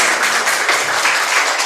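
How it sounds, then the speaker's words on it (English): Steady crowd applause at an international seminar, many hands clapping together in a continuous dense patter, fairly loud and close, with no talking. "Maybe once again we can give them applause."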